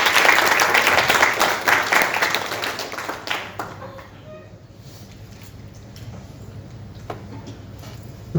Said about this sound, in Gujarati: સૌથી પહેલાં જોરદાર તાળીઓ થઈ જાય